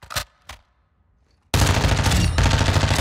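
Lachmann Sub submachine gun from Modern Warfare II opens with two short shots, then after a pause fires a loud, sustained automatic burst that runs without a break to the end.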